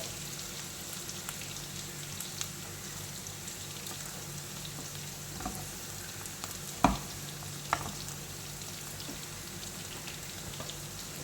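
Egg and vegetables stir-fried and scrambled in a pan for a vegetable egg thoran, a steady soft sizzle running throughout with a couple of faint clicks of a utensil against the pan.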